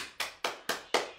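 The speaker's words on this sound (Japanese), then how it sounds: "はい、背筋を伸ばして拍手" Five evenly spaced hand claps ring out crisply and close by during a stretching exercise, with no talk between them.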